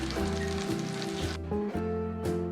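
Kebabs fry on one side in hot oil in a pan, giving a steady close sizzle and crackle with a faint tonal hum underneath and no talking.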